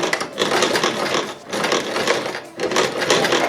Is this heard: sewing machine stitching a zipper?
yes